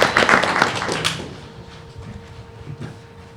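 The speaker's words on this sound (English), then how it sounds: "Let's give Helen a round of applause." Brief scattered clapping from a small group at a board meeting, loudest in the first second then fading into quiet room noise with a faint hum.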